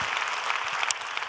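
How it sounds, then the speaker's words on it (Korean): Clapping from a church congregation at a Friday worship gathering, a short dense wash of hands at a steady moderate level with no voices on top. "우리 하나님께 영광의 박수 올려드립니다."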